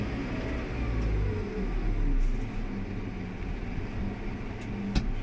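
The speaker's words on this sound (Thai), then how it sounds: "ถ้าต้องการให้เร็วเราก็เหยียบคันเร่งเติมเข้าไป นะครับ ดัมก็จะยกเร็วขึ้น" A small new 3-cubic-metre dump truck engine runs in a steady, loud low rumble as the bed raises, swelling slightly mid-way, with a sharp click near the end.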